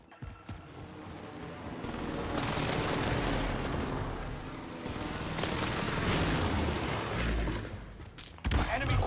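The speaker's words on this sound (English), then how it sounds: "Allied precision airstrike incoming." An allied precision airstrike in a combat video game, a sustained barrage of heavy booming explosions and crackling gunfire rolling on for several seconds, loud and dense, with a sharp burst near the end.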